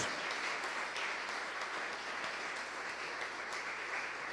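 Church congregation during a Portuguese-language evangelical sermon breaks into steady applause, a continuous dense wash of many hands clapping at an even level throughout.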